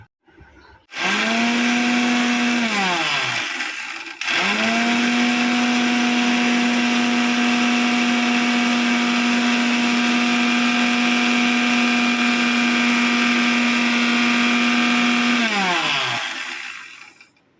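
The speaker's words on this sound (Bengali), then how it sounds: "চলো ব্লেন্ডারটা পেতে নিই আমি" An electric blender grinds homemade biryani spice mix in two long loud bursts, the motor whining up, holding a steady high drone, then winding down, with a brief pause between runs.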